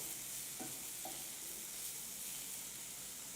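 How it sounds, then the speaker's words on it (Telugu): Cauliflower with a little salt fries in a pan, giving a steady loud sizzle with a couple of soft scrapes as it is stirred. "ఇలా కొద్దిగా సాల్ట్ వేసుకొని బాగా ఇలా ఫ్రై అయ్యేలా కొద్దిసేపు ఇలా కలుపుతూ ఉండాలి"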